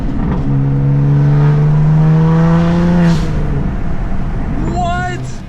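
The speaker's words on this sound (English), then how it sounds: "The sound and the downshifts with this manual transmission is insane." BMW M3 with a manual transmission accelerating loudly, heard close up from inside the car, with its engine note climbing steadily before dropping away into a quick downshift, and excited voices underneath.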